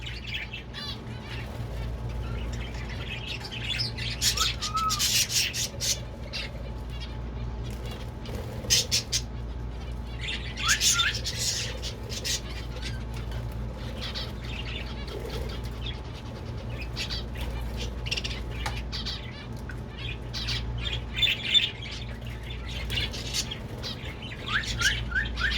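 Indoor pet birds chirp, tweet and squawk steadily throughout, with frequent sharp calls and occasional wing flutters over a constant low air-conditioner hum.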